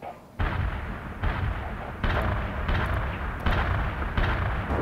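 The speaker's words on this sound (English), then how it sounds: "Heavy artillery barrage inbound." Heavy artillery barrage in the strategy game World in Conflict, a run of loud booming impacts rolling one after another with rumbling noise between them.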